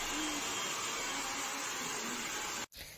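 Hair dryer running at full power, drying towel-dried hair at a salon before a global colour: a steady, loud rushing blow that cuts out abruptly near the end, leaving a quieter room.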